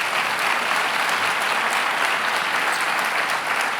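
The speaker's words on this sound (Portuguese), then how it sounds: "Dê uma salva de palmas às Escrituras." A church congregation breaks into sustained applause, a dense, steady wash of clapping from many hands that fills the room without a break.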